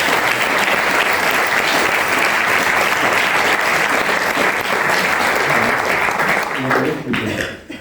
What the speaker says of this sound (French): merci s'il vous plaît d'applaudir très chaleureusement